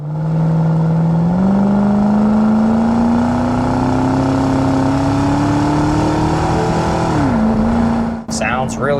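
A 2003 Ford Mustang Mach 1 with the 4.6 engine and factory exhaust pulls hard, its tone climbing smoothly for several seconds before easing off and settling, loud and close from inside the car, ending in a brief clunk.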